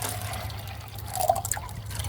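Water poured into a fast boil system at a night camp, a faint, brief trickle and gurgle over a low steady background hum.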